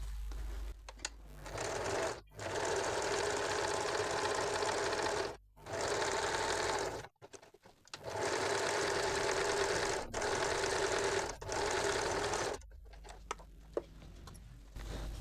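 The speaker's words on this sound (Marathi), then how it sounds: "आपण आता शिलाई देऊन घेऊया" A sewing machine stitches a katori cup into a blouse, running in long steady bursts of rapid mechanical ticking with several short pauses between runs, close and fairly loud with no talking.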